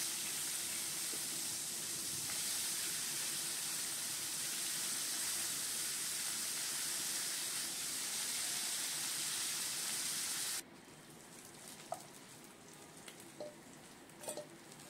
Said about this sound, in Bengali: এবার মাছগুলো আগে ভেজে নিচ্ছি।